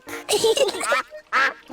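A cartoon duck quacking in a children's animated show, several loud nasal quacks close by in two bursts separated by a short pause.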